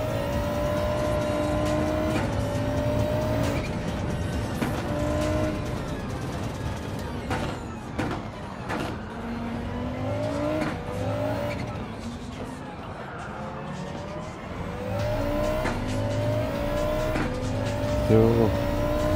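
A Group B rally race car in Gran Turismo 7 revs hard and accelerates, engine pitch climbing repeatedly through gear changes with tire squeal, loud and continuous, while someone talks excitedly over it.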